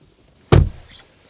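A car door on a Nissan Ariya electric SUV shuts with one solid, close thunk, followed by a short fading rattle and quiet.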